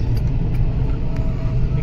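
A car drives along a road past a tea garden in Assam in the morning, its engine a heavy low rumble with road noise filling the whole stretch.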